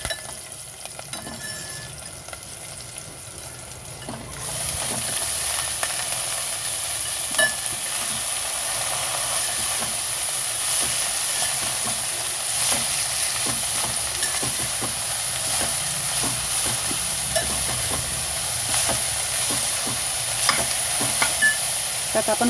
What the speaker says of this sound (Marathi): त्यात आपण कोबी घालून घेऊ।